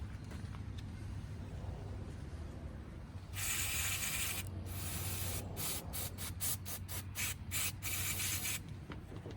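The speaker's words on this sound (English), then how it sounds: "spray it in there, spray it around a little bit, get all the crud off of it" Short hissing bursts of cleaner sprayed into a Chevy Suburban K1500 headlight housing, a long squirt followed by a series of quick pulses, close by with a faint mechanical hum underneath.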